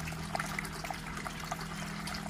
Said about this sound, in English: So the first gutter is flushing into the second gutter.